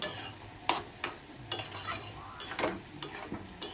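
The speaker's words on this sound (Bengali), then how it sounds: "এখন নাড়িয়ে চাড়িয়ে নিচ্ছে" A spoon stirs a laddu mixture in a pan, scraping and clinking against the metal in uneven strokes over a faint background hiss, close by with no speech.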